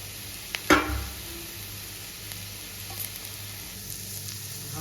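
Capsicum frying in a pan, with a sharp burst of sizzling as it hits the hot oil, then a low steady crackle that stays quiet and close, with no talk.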